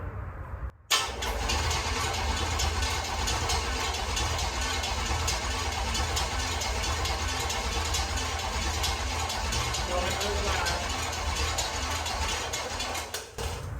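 A big block engine swapped into a hot rod catches almost at once and settles into a loud, steady rumbling run that continues to the end, close by, with no talking.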